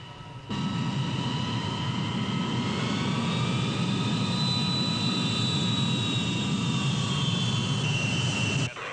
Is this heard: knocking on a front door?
no